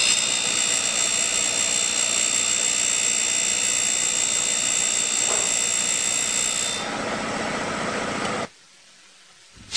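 A bench grinding wheel sharpens the flutes of an end mill, giving a steady high whine and hum that holds, eases slightly, then drops away abruptly into near silence just before the end.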